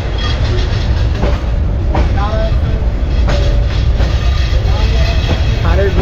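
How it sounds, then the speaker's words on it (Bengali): A train coming from Sylhet pulls out of Sreemangal station bound for Dhaka with a loud, close, continuous rumble. Rhythmic wheel clacks and faint squeals run through it without pause. "ট্রেন চলে আসছে, যাবে ঢাকা, সিলেট থেকে আসছে, ট্রেন চলে ছেড়ে দিচ্ছে।"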